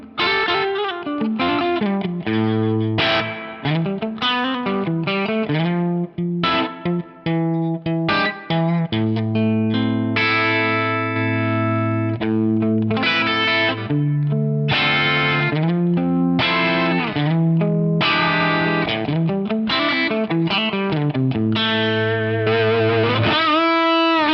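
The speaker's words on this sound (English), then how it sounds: "let's have a listen to what the gold plate sounds like" Electric guitar played through a Fractal VP4 with the gold plate reverb preset, a continuous run of sustained, effects-laden notes and chords with a lingering plate-reverb wash, loud and steady for the whole stretch.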